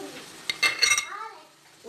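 Chicken filling with salt, tomato paste, black pepper, parsley and corn stirred and fried in a pan: a few sharp spoon-against-pan scrapes and clinks over a soft sizzle, with a voice briefly in the background.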